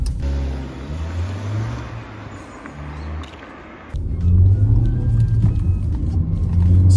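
A 2016 Kia Soul with a 1.6 petrol engine idles and hums low, then the engine note jumps louder and steadier partway through as it runs.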